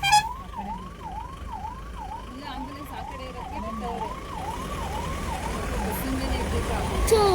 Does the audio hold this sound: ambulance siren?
yes